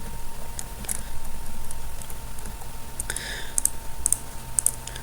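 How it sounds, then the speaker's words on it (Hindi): A computer keyboard's arrow keys are tapped in small clusters of quick, light clicks, mostly toward the end, over a quiet room hum while adjusting a page design in Microsoft Word. "Ctrl+D करने के बाद कीबोर्ड में जो एरो बटन है उसके ज़रिए आपने इसका एडजस्टमेंट करना है।"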